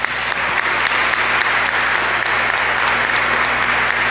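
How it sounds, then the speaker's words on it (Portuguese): A round of applause rings out in a church community gathering during a friar's solemn profession, many hands clapping densely and continuously, fairly loud and close, with a faint steady hum beneath. "uma salva de palmas para ele."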